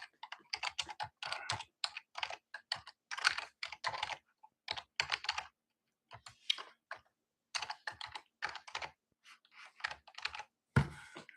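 Keys on a computer keyboard clatter in quick bursts of typing separated by short pauses, close and crisp in a quiet room, as someone enters login details.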